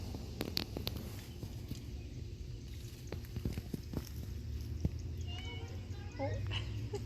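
Young kittens in a herb garden give faint, high meows toward the end over a steady low outdoor rumble, with scattered small taps and rustles throughout.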